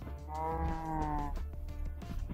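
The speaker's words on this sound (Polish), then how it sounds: "Młoda krowa" Cows in Minecraft let out a long, drawn-out moo, close and clear, followed by scattered soft clicks and thumps of game sounds.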